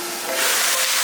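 Pea shoots hit hot rendered chicken fat in a wok, giving a loud, steady close-up hiss and sizzle that swells slightly and holds without pause.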